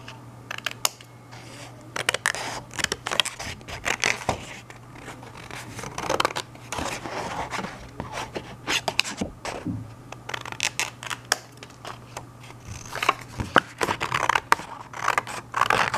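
Scissors cut through paper for an oil pastel scratch art project, a long run of close, crisp snips and rustles that come in irregular bursts over a steady low hum.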